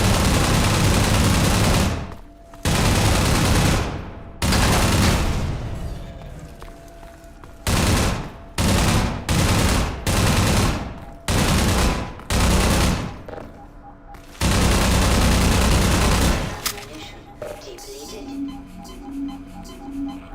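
Heavy automatic gunfire from Half-Life 2 with the MMod mod, long loud bursts of rapid shots separated by short gaps, ending in scattered lighter clatter and mechanical sounds.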